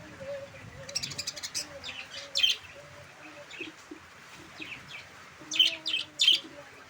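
Pet cockatiels and budgerigars kept together in one place chirp in scattered bright bursts, faint to moderate, with low voices talking underneath and rain nearby.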